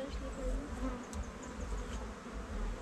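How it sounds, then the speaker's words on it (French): A swarm of honeybees hums continuously nearby at an apiary, a thick, even drone with small rises in loudness and no talking. "Bourdonnent les abeilles."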